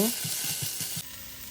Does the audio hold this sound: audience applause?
no